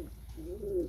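Pigeon cooing close by in a pigeon loft, a single soft low coo that rises and then falls, with faint background noise and no talk.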